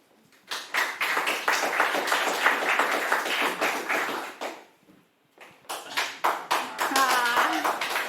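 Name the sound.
audience clapping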